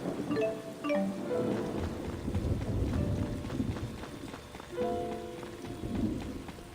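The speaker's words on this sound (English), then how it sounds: "There already is more thunder." Rain and thunder in the video game Tales of Xillia 2, a steady wash of rainfall with low rumbling swells, interspersed with game music tones and effects throughout.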